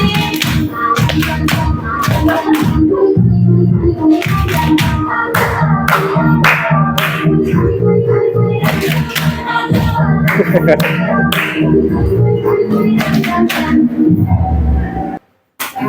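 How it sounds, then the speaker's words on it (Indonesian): A group at an Indonesian teachers' workshop claps hands together in quick, steady rhythmic bursts, loud and close, stopping abruptly near the end. "Tepuk tangan untuk semuanya."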